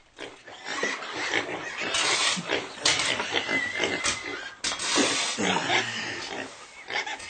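Pigs in a pigsty grunt and oink repeatedly in a busy, close, overlapping chorus as a radio-drama sound effect, with some voices mixed in.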